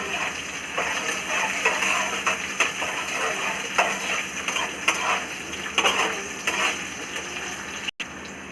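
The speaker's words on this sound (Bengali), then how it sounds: "এবার আমি এর উপর দিয়ে পেঁয়াজগুলো দিয়ে দেবো ভালোভাবে করা করে নেবো" Onions tossed onto garlic, ginger and green chili paste fry in a pan, with a continuous sizzle and repeated clinks and scrapes of a spoon stirring, close up.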